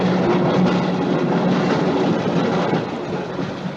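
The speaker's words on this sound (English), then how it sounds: "Night train." A night train in the horror film Horror Express rumbles steadily along the rails with a rhythmic clickety-clack of wheels, loud and continuous, easing slightly toward the end, with no voices.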